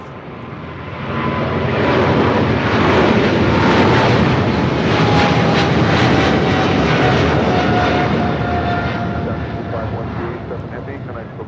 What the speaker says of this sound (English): This flight heading to Taipei